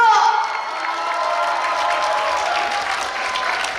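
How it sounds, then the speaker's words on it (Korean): Crowd at a police veterans' day celebration concert claps and cheers after a performer's call, a sustained wash of applause with shouts and whoops layered on top, loud and close throughout. "여러분 박수와 함성 보내주세요!"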